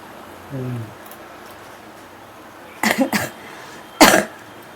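Two bursts of harsh coughing ring out close by, separated by a short pause, after a brief vocal sound against a quiet background.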